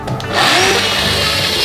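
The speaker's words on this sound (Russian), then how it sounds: "Закрепляем ее струбцины и обрезаем этот край." Power saw cutting off the edge of a clamped solid wood board while making a cutting board, a loud, close, continuous buzzing whine with a brief rise as the blade bites in.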